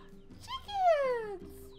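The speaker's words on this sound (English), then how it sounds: "Chickens!" A chicken in the video game NieR Replicant gives a single drawn-out cluck that slides downward, short and clear over quiet game background.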